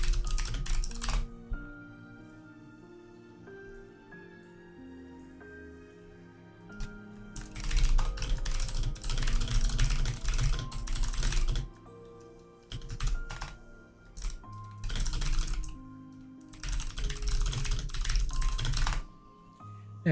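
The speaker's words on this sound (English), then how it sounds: "Hyper fast typing." Fast typing on a computer keyboard comes in rapid clattering bursts of keystrokes, separated by short pauses, with soft background music playing underneath throughout.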